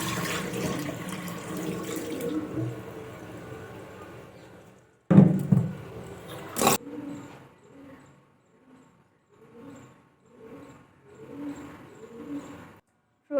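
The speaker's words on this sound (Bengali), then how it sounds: "এটাকে এখন ভালোভাবে ধুয়ে নেব" Mixed lentils are rinsed under running water in a sink, a steady splashing flow that breaks off, followed by scattered swishes and a pigeon cooing softly in the background.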